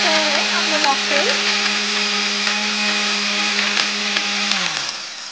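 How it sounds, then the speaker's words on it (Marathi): A blender whirs loudly and steadily as it purées mango and milk into a smoothie, the motor droning close by before winding down at the end, with someone talking over it early on. "दूध घालून परत एकदा फिरवून घेऊया. अगदी स्मूथ आपण करायचं आहे आपलं मॉकटेल."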